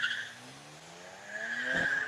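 A modified BMW 335 race car climbs a hill at a speed event in Cape Town, its engine note rising steadily with tire squeal before a louder surge near the end, heard from a distance.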